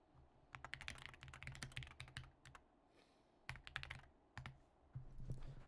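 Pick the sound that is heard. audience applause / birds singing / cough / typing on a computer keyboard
typing on a computer keyboard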